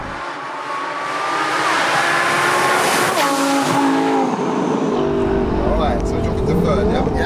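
Twin-turbo V10 Lamborghini Huracan of about 1200 bhp revving past 8,000 RPM, a loud rising engine howl that climbs steadily, dips briefly at a gear change and then climbs again, with occupants talking excitedly over it.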